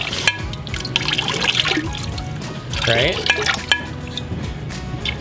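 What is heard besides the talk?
pouring green pottery glaze along the edge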